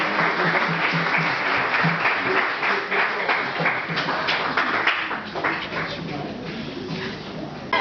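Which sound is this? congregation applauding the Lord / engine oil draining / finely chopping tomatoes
congregation applauding the Lord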